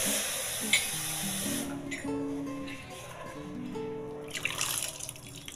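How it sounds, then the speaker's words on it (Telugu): Water is poured onto potting soil around a mint plant at home, making a soft, gentle trickle and splash close by. The flow comes in short uneven bursts and stays fairly quiet throughout. "కొన్ని వాటర్ పోద్దాం ఫస్ట్"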